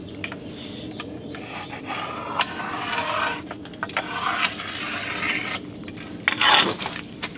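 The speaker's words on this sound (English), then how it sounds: "I'm just gonna use this trowel to give me my little slope up at the linear drain here" A steel trowel scrapes and drags across wet mortar bed while sloping it up toward a linear shower drain during tile work, giving close, rasping strokes in irregular bursts with short pauses.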